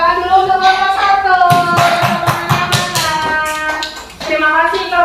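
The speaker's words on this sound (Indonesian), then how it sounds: "Tepuk tangan dulu untuk kelompok" Classmates in a classroom clap for group one, a short burst of close hand claps mixed with speaking voices and children's chatter.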